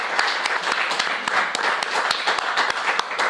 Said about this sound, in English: let's get a round of applause for Karl